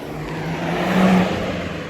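A BMW car drives past on the road, its engine note swelling to a peak about midway through the pass and then fading, heard alone at moderate distance.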